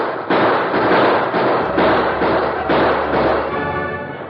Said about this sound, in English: Hey, listen. Gunfire, Hart.